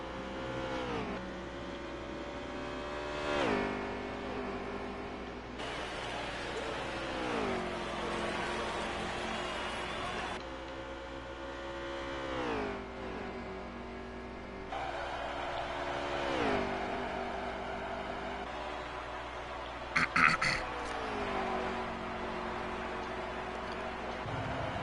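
Race car engines roar continuously through a NASCAR Heat 3 race at the Charlotte Roval on PlayStation 4, pitch climbing and dropping in repeated shift-like sweeps as cars brake and accelerate, loud and steady with a brief sharp click near the end.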